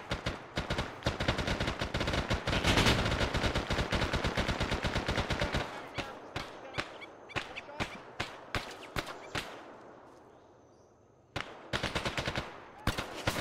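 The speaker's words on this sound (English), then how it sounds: "Oh, shots!" Military video game gunfire crackles in rapid bursts of sharp automatic shots, dense and loud at first, then thinning to scattered single cracks, a brief lull, and a fresh volley near the end.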